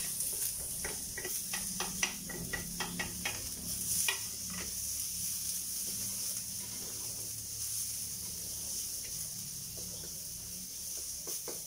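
Garlic and onion sautéing in a pan with ginger for Filipino-style chicken curry, a steady close sizzle with scattered scraping stirs and clinks, no talking.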